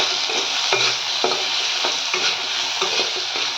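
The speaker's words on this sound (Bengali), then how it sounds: "প্রথমে আমরা আলুটাকে ভেজে নিচ্ছি।" Potatoes frying in a pan make a dense, steady sizzle, with a spatula scraping and stirring at a rough regular pace, loud and close, with no voices.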